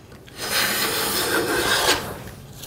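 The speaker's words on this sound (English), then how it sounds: "So planing against the grain like this, a couple passes," A hand plane fitted with a 55 degree frog shaves wood against the grain in one loud, steady rasping stroke lasting about a second and a half, close up and with no voices.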